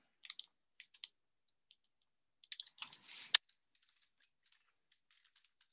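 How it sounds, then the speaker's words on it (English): Typing on a computer keyboard in a lecture setting, sparse quiet key clicks with a short denser burst of keystrokes in the middle, close and faint with no talking. "Let me type that in."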